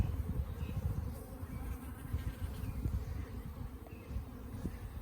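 Honey bees buzz steadily inside an open hive during a spring inspection, a dense close hum of many wings with occasional louder passes, and no voices.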